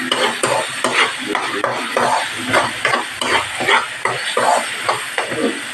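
Tomatoes, onions and green chili sautéing in a pan, a steady loud sizzle broken by rhythmic scraping strokes of a utensil stirring through the mixture, with no voices.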